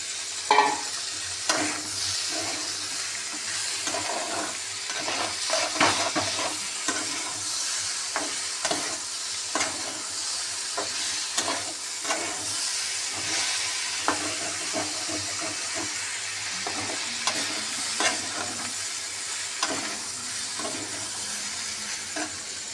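A ridge gourd and potato dal is stirred in a pan, the spoon scraping and clattering over a soft steady sizzle, close and continuous for over twenty seconds.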